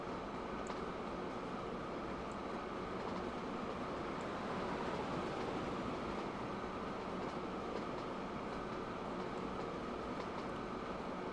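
A train rolls past steadily in the Train Fever railway-building game, a continuous broad rumble with faint rail clatter holding at even loudness for about eleven seconds, with no voices.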